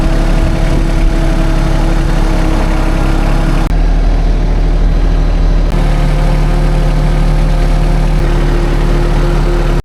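Loader engine running loudly and steadily at close range while backfilling dirt for a water diversion system, with a brief shift in engine load partway through and no talk.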